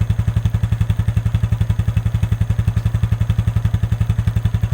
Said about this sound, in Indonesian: Dan baru dihidupin mesinnya aja, rodanya udah mutar sendiri.